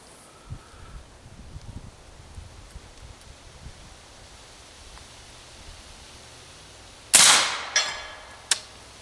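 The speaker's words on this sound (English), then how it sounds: "Let's see if this little mic can pick up the steel hitting." Subsonic 300 Blackout rounds fired through a suppressor at a steel target outdoors: mostly quiet background with soft distant pops, then one loud sharp crack with ringing decay near the end and a second, smaller impact shortly after.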